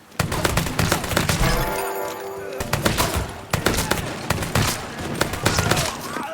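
Gunfire in the crime action game Mafia III, with loud, rapid bursts of shots and sharp cracks through most of the stretch and brief pauses between volleys.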